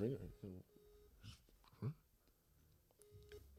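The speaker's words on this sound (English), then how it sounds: "Ooh, it's ringing." An outgoing WhatsApp call rings with two short electronic ring tones, quiet and close, amid brief bits of nearby voices.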